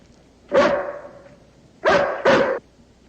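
A hound dog barks close by: one drawn-out bark, a pause, then two quick barks in a row, each loud and clear against a quiet background.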